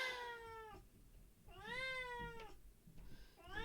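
A cat in the video game Disco Elysium meows loudly and close by: two drawn-out, wavering meows followed by the start of a third, with no talking.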